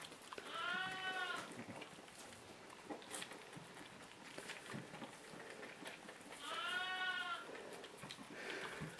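Newborn lambs on a farm bleating in two clear, wavering calls, one early and one later, fairly close, with faint shuffling and patter in between.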